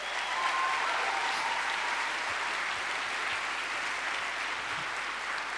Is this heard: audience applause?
yes